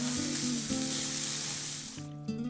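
Freshly caught barramundi sizzles loudly and continuously on a houseboat cooker, a bright steady frying hiss that cuts out abruptly near the end with a low hum underneath.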